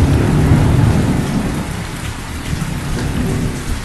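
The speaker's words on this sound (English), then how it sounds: "Why it's raining in the desert?" Heavy, steady rain pours loudly with a deep low rumble underneath, a continuous wash of noise with no voices.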